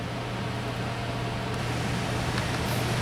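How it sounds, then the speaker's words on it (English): An air cooler's fan drones steadily and loudly with a low hum throughout, constant and unbroken, with no voices over it. "sorry about the noise, but I got to run the cooler today."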